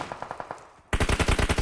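Gunfire in the mobile battle royale game PUBG Mobile during an esports tournament match: a few spaced shots, a brief lull, then a loud, rapid automatic burst close by.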